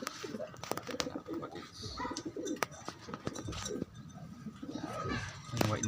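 Pigeons coo close by in repeated soft, throaty calls, mixed with a few other bird sounds while someone talks over them.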